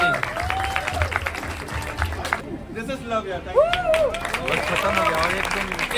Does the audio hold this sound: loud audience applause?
yes